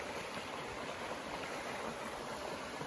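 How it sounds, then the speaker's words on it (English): The Israel River in Jefferson, New Hampshire flows in a steady, even rush of water, a constant wash of noise with no breaks and no voices over it. "Beautiful river runs by here"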